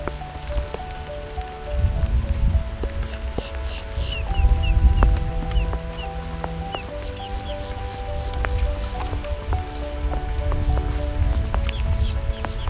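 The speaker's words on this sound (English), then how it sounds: "all of a sudden it downpours" Heavy rain pours down at a Florida prairie reservoir, a dense steady patter of drops drumming on surfaces with no voices, swelling slightly louder midway and holding strong to the end.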